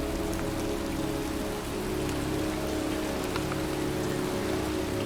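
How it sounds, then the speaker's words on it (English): Steady rain pours outdoors in the Heavy Rain video game, a dense, continuous hiss of drops hitting surfaces with a low rumbling undertone and no voices. "It's cold. It's raining. I'm standing outside getting soaked."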